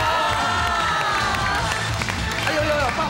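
Studio audience clapping and cheering on a Taiwanese TV variety guessing show, a dense steady wash of applause with excited voices mixed in, sustained at full level throughout.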